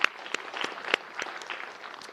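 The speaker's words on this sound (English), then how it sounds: "So I think we should clap again for her for" Scattered applause at a school Board of Education meeting, a few distinct claps standing out over a soft spread of hand clapping from a modest room audience, fairly quiet and short-lived.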